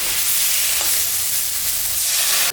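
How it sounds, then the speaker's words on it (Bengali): Loud, continuous sizzling as water is poured into a hot pan of fried chili, garlic and tomato for a fish curry, a fierce hiss that stays strong throughout before cutting off. "ভাজা হয়ে গেছে এখন আমি জল দিয়ে দিই"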